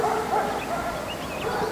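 A dog barks and yips repeatedly in an outdoor obedience-training session, fairly near and steady, with no one talking over it.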